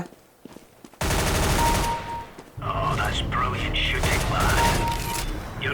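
Bursts of rapid gunfire in Counter-Strike: Global Offensive, loud and close, with a short lull before sustained automatic fire resumes alongside clattering effects.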